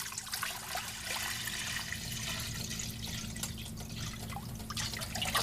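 Purified water is poured from a saved jug into a cooking pot for spaghetti, a faint steady trickling splash that runs on without a break.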